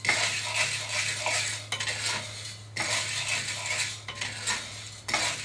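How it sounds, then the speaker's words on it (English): Coffee beans roasting in a cast iron pan are stirred almost constantly, giving a continuous dry rattling scrape with brief pauses, close and fairly quiet, with no voices. "Once you get it in there, you need to stir it nearly constantly."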